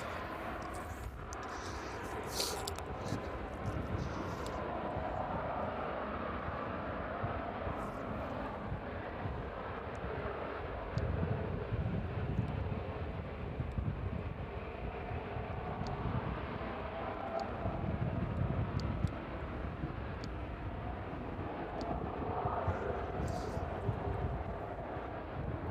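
A West Atlantic Boeing 737 taxies onto its stand at East Midlands Airport in the evening, its steady jet engine roar close and continuous, with gusts of wind buffeting the microphone.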